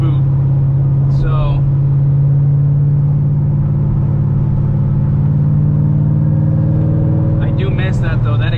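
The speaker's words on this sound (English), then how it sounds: "That exhaust is nice." Cammed C6 Corvette with an LS3 V8 drones loudly and steadily from the cabin while driving, a deep lumpy exhaust tone held throughout with faint extra noises near the start and end.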